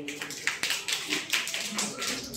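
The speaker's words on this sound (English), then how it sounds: "Clap for him." An audience at an English language practice session gives a speaker a short burst of quick, scattered applause, with a voice heard faintly among the clapping.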